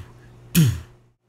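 A voice imitating a tom drum with a closed-mouth, cheek-puffed "do" sound, heard as a single short, low, rounded thump that quickly decays, alone and close.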